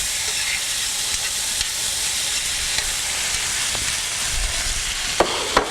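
Browned ground chuck and vegetables sizzling steadily in a pan for a calzone-style pasty, a continuous loud frying hiss with a few faint utensil scrapes and taps near the end.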